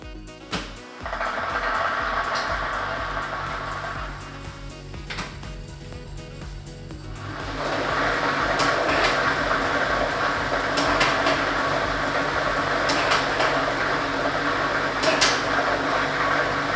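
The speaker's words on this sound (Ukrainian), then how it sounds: "І ми вмикаємо лототрон." A Ukrainian state lottery drawing machine for Loto Maxima, machine B with ball set 3, is switched on: a continuous mechanical whir builds into a louder rush with clattering, tumbling balls and sharp ticks, close and alone.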